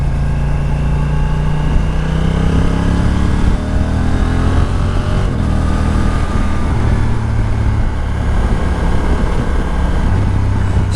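A 2022 Honda NT1100 touring motorcycle with a manual gearbox and quickshifter runs steadily under way, its engine a continuous loud drone with shifting tonal hum and wind rush across the whole stretch, no voices.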